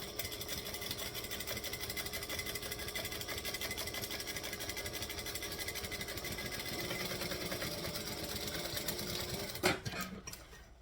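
A sewing machine stitching a garment seam at a joining stitch length, running in a fast, steady mechanical whir close by before stopping abruptly near the end with a few clicks.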